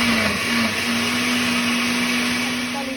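A blender purées red chile sauce with seeds for enchiladas rojas, a loud, continuous, close whirring roar with a steady motor tone that dips briefly near the start.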